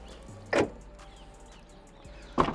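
A powered tailgate on a 2025 BMW X5 closes, giving a short motor whir followed by a near, soft thud as it latches, then another brief motor burst and latch sound, all without talk.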